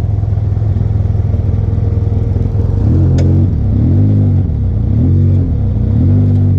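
An off-road vehicle on a trail idles, then its engine revs and rumbles in repeated surges as it backs up and maneuvers, close and steady with no talk.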